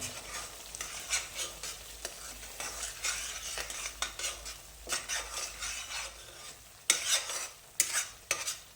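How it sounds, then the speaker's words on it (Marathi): Semolina roasts in a pan for prasad sheera while a spoon stirs it, making soft, repeated scraping strokes over a faint sizzle. No one speaks. "हा रवा व्यवस्थित भाजत भाजत आणि व्यवस्थित ढवळून घ्या"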